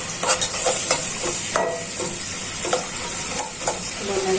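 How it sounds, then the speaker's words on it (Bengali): Onions fry in a pan with a steady sizzle, broken by repeated scraping strokes of a spatula stirring them at close range. "এখন ভালো করে পেঁয়াজটা ভাজা হয়ে যাচ্ছে।"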